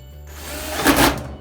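A power tool trigger is pulled during a Maytag Epic Z dryer repair, producing a brief whirring buzz that swells and fades over about a second over a steady low hum.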